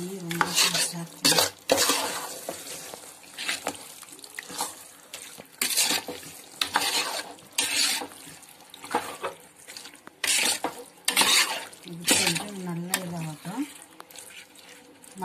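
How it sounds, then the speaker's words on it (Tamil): Chicken coated in masala for biryani being stirred and fried in a pan, with repeated metal spoon scrapes and clinks against the pot, some running water from a tap, and intermittent talking. "கொஞ்ச நேரம் இப்போ நல்லா வதங்கிச்சு சிக்கன் எல்லாம்."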